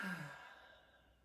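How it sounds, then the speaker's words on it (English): A single soft exhale, like a sigh, during a gentle yoga class, quiet and close, fading out over about a second with no talk. "Breathing as we go."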